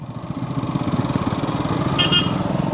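Close motorcycle engine chugging in a fast, steady pulsing rhythm while riding in a group of six bikes, with a brief double beep near the end.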